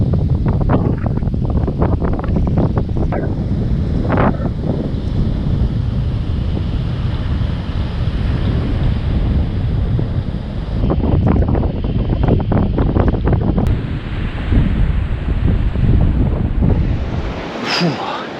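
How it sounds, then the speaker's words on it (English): Strong gusty wind on the beach at Nettuno buffets the microphone with loud rumbling roar throughout, surf washing faintly beneath, and a voice speaks briefly amid the blustering. "Wow, it's blowy."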